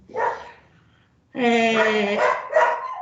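Dogs bark in short bursts close by, a yip first, then a longer run of loud overlapping barks after a brief pause.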